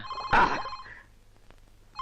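A telephone in a home gives a short, loud ring burst that quickly fades to near silence.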